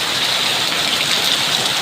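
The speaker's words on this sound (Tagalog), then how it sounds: "Biglang lumakas yung ulan." Sudden heavy rain pours down outdoors near a parking area, a dense, loud, unbroken hiss of water drumming steadily on surfaces with no voices.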